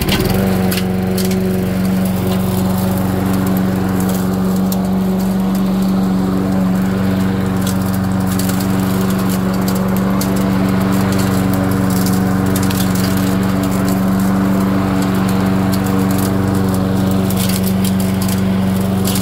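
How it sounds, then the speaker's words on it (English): A Toro Personal Pace self-propelled walk-behind lawn mower runs and mows a yard, its small engine giving a steady, loud droning hum that holds unbroken for about nineteen seconds. "Take a quick mow around the yard here"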